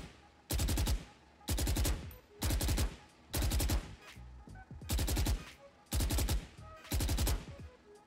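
Seven bursts of rapid automatic gunfire from spray practice while crouching in the shooter game Valorant, each spray about half a second long, loud and sharp, separated by short quiet gaps.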